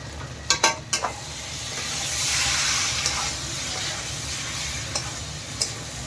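Cauliflower and potato pieces stir-fried with ground cumin and coriander in a pan, a continuous oily sizzle swelling midway, with a few sharp clinks of a spoon against the pan at the start and later.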